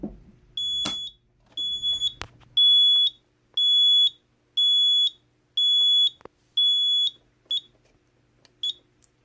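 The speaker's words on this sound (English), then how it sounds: "the panel's piezo will continue to sound for a little bit" A shrill piezo buzzer on a Simplex 4004 fire alarm panel sounds in repeated pulses of about a second each, evenly spaced, loud and close in a quiet room.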